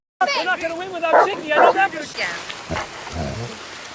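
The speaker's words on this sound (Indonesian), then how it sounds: "tiba-tiba ada anjing menggonggong." A dog barks in heavy rain, giving a few loud, close yelps in quick succession. Rain hisses underneath, and a voice speaks at the same time.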